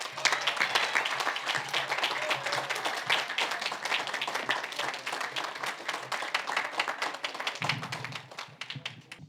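Graduation audience at the Menlo College commencement applauding, a dense, steady wash of many hands clapping throughout that thins slightly near the end.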